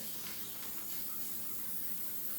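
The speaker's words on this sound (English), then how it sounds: "You want your adhesive spray, and you're just going to spray the top of your pumpkin nice and good." An adhesive spray can sprays onto the top of a pumpkin, giving a steady, faint, continuous airy hiss for the whole stretch without a break.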